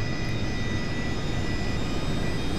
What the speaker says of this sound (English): engine 1 is coming online now